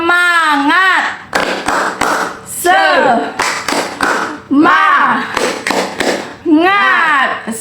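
A group of children chants loudly in unison, punctuated by sharp rhythmic handclaps between the shouted phrases.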